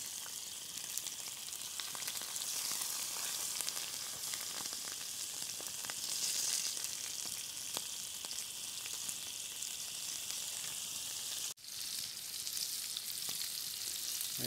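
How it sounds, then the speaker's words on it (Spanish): Guinea pig and pigeon meat frying in hot oil outdoors, a steady dense sizzle with crackling pops running throughout, close and fairly loud, with a brief dip near the end. "Va queriendo la fritanga."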